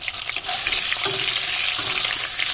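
Vegetables coated in turmeric and salt fry in a kadai with a close, continuous sizzle, punctuated by a few soft stirring clinks and scrapes.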